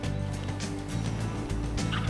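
A wild turkey gobbler gobbles in repeated bursts on a Wyoming mountain ridge, fairly near and loud over a steady outdoor background, with no voices.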